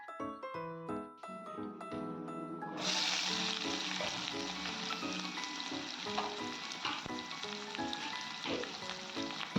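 Onions and curry leaves frying with fennel seeds in a pan for mutton chukka, opening with a few sparse pops before a loud, steady broadband sizzle takes over for the rest of the clip.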